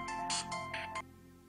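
An electronic phone ringtone plays a few quick bright tonal bursts, then stops abruptly, fairly faint, in a quiet indoor scene.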